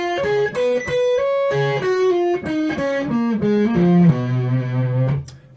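Heavily distorted electric guitar runs through a fast descending lick in the fifth position, a stream of picked and hammered notes ending on a low sustained tone that cuts off, loud with no voices.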